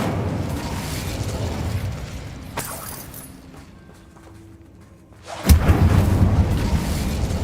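Incendio fire spell cast in the video game Hogwarts Legacy, a loud whooshing burst of flame and rumble that erupts after a quieter stretch, following earlier roaring combat noise.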